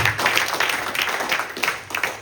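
A church congregation claps together during a sermon, producing dense, rhythmic group applause that holds steady and fairly loud for a couple of seconds with no talking.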